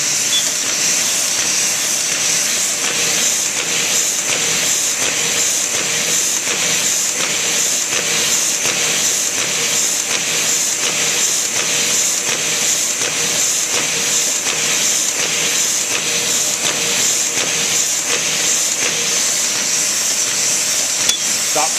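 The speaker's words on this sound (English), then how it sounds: "The pump seems to be in really good shape, got plenty of air blast." A Ryobi 3302H two-color printing press runs with a steady rhythmic pulse of pump air blasts and hissing over a continuous mechanical whir, loud and close throughout, with no one speaking.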